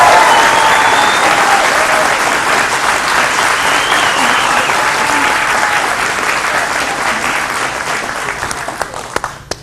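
A studio audience applauds the students of Central Florida Aerospace Academy, a dense, steady wash of clapping that runs loud throughout and slowly thins toward the end, with a few sharp individual claps standing out.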